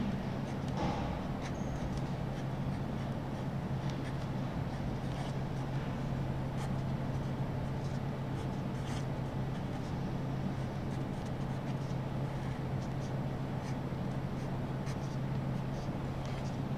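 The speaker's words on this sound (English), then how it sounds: "I will draw this circuit, I will copy this circuit twice more" Pen strokes scratch across paper as a circuit diagram is drawn by hand, faint intermittent scribbling over a steady low electrical hum.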